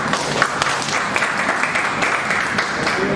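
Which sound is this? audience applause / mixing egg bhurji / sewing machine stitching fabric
audience applause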